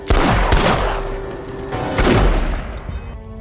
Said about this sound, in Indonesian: Jadi siapa yang ditembak Frank tadi?